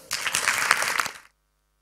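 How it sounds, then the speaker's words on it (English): A short burst of audience clapping lasts just over a second, then cuts off abruptly into silence. "Give him a warm applause."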